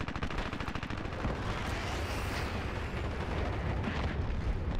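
A proxy mine goes off amid combat in the video game Dirty Bomb, a dense, continuous roar of blasts and rapid gunfire that stays loud from start to finish.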